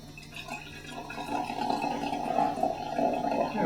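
Hot water pours into a tea vessel for Bai Mu Dan white tea, a steady close trickle that rises gently in level and keeps going without talk.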